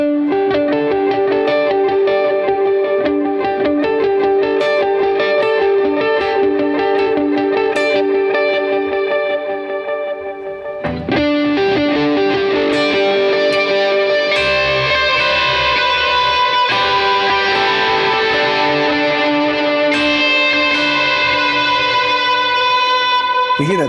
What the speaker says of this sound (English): Or with some drive, you can start to hear that the delays crunch up more.